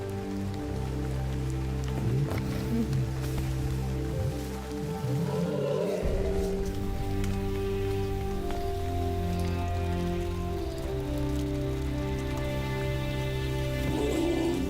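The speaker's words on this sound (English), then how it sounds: "Playing in the rain, their spirits remain undampened." Rain falls steadily in the Botswana wilderness, a constant even patter and hiss that carries on throughout beneath a loud, sustained orchestral score.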